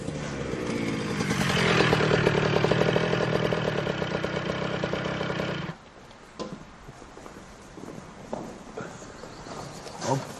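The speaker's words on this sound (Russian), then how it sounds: "Я пригнал мотоцикл" A motorcycle engine runs loud and steady for several seconds, then cuts off abruptly, leaving faint scattered knocks and background noise.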